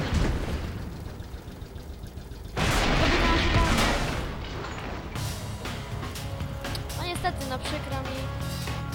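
Tank cannon fire from the video game World of Tanks, with a loud boom partway through and rumbling battle noise and engine sounds before and after it, while voices are heard over the action.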